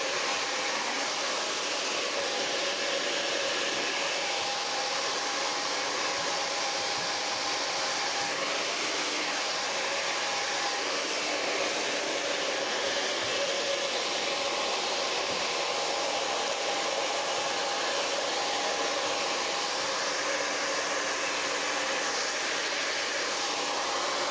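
A hair dryer blow-drying hair for a scrunched blow-wave style runs as one steady, loud, broadband whoosh, constant for the whole stretch with no talking over it.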